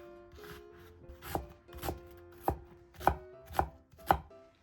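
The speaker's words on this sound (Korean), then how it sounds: "양파는 가늘게 썬 후 작게 썰어주세요." A knife chops onion on a cutting board in a series of crisp, separate strikes, close up and quiet, with no talking.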